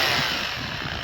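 A Hilti hammer drill runs continuously at close range, a steady loud mechanical whine with dense rattling texture as it works in hammer mode, with no voices over it.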